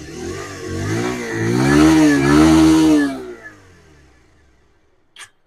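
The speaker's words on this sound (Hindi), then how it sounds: "सबसे पहले आप इसका एग्जॉस्ट नोट सुन लें" Bajaj Pulsar 125 FI motorcycle engine revving up and dropping back, a close, loud single rise of exhaust note lasting about three seconds before fading to near silence, then a brief click.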